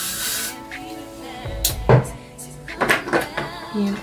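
Short bursts of hairspray hiss onto a fluffy kinky straight wig during an install, a few quick close sprays among soft handling rustles and light bumps.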